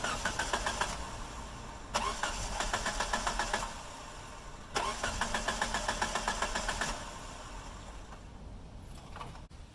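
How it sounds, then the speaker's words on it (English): A 2G DSM car engine cranks in three separate bursts while fuel pressure is relieved, each a fast rhythmic churning from the starter, with short pauses between and no engine catching. "we start the car, and we wait for the fuel pressure to drop off"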